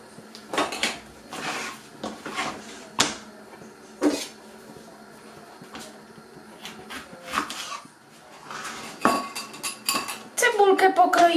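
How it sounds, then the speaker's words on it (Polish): Knife chopping onion finely on a cutting board in a home kitchen, irregular knocks and taps with occasional clinks of dishes and utensils, close by and moderately loud, with no talk over it. "to ja tak skroję bardzo drobniutko cebulkę"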